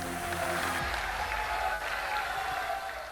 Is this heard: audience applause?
yes